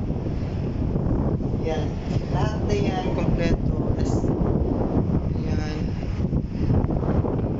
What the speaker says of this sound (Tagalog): Sobrang hangin din, sobra